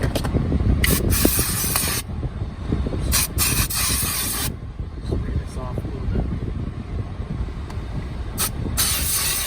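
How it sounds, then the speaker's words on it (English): Hissing bursts from a spray can of cleaner misting a wet car floor mat, several separate sprays of a second or more each, close and fairly loud over a low rumbling background, with occasional speech. "Get it off with that spray can."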